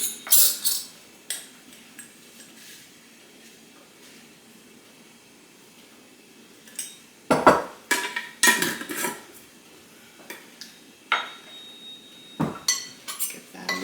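Batter being stirred in a bowl after a tablespoon of sugar is added to well-mixed butter and flour, heard as quiet scraping followed by a cluster of louder clinks and knocks of a utensil against the dish.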